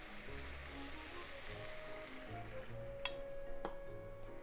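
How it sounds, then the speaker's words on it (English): Water poured into a pot of glossy potatoes and pork for a braise, a soft, steady trickling stream heard faintly and close, with a couple of small clinks near the end. "Add 200 ml of water and all these seasonings."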